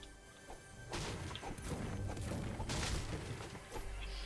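Rocket explosions in the video game Fortnite come as a run of loud crashing booms and heavy thuds, the first hitting about a second in and blasts rolling on for several seconds.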